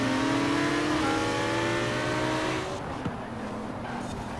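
All-wheel-drive Lamborghini Huracan Performante launching in Forza Horizon 4, a loud engine howl climbing steadily in pitch through the gears before dropping away into quieter running.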